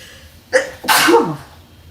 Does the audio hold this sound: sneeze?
yes